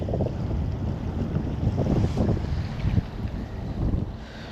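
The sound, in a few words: strong wind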